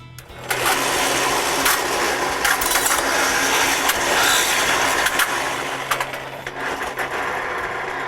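A worn old power saw with loosened parts and a stretched belt struggles to cut notches in 2x4s. It makes a loud, continuous rattling whine and clatter that runs almost the whole time, with sharp ticking impacts mixed in.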